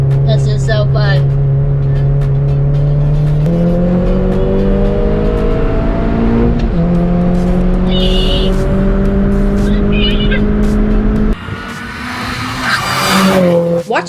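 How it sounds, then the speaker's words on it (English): A stock R53 Mini Cooper laps a race track, its engine droning loud and close as it climbs through the revs and shifts gears, with tires squealing through corners and a harsh burst of wind and noise near the end. "Watching Jack take my car around the track was really, really fun"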